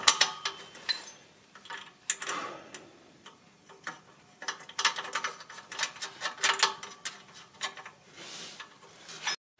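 A 12 mm wrench ratchets against a bolt on a Mercedes starter motor. Irregular bursts of dry mechanical clicks run close and fairly quiet, with brief pauses between turns and no talking.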